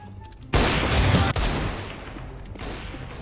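Gunfire in Counter-Strike: Global Offensive on an AWP map: a loud burst of shots followed by a second sharp report, then fading echoey noise, with a faint voice under it.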